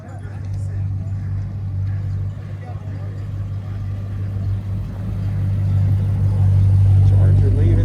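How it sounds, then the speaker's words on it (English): An older Dodge Charger with a gold vinyl top drives away at a car show, its low engine rumble steady and then swelling louder toward the end, under nearby voices. "Charger leaving there."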